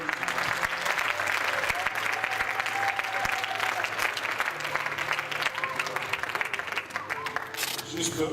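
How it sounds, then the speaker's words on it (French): A church congregation applauds after a Sunday school presentation, with sustained dense clapping throughout and some voices and background murmur mixed in beneath the hands. "On peut applaudir pour notre école."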